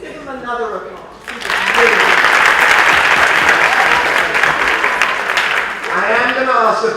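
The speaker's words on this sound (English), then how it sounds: "let's give him another applause." An audience at a university talk breaks into sustained applause, a dense steady wash of clapping lasting several seconds with quieter stretches at the start and end where a voice is faintly heard.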